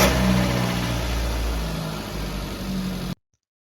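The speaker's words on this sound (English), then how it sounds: "Ask him to crank the engine." A car engine cranks over during a battery cranking test, a steady low mechanical churn for about three seconds that cuts off abruptly into silence, with no clear catch and rev of a start.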